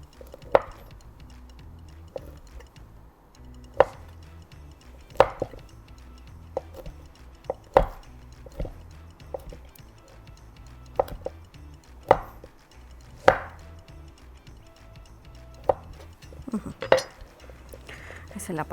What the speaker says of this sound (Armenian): Ես ուզում եմ սլայսի պես կտրատել,